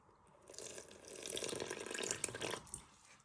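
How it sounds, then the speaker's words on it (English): Water pours from a container into a bowl of breadcrumbs for a Scotch egg pie, a soft continuous trickle lasting a couple of seconds, close and fairly quiet with no talking. "you're going to make a little bit of a well and you're going to start pouring in some water"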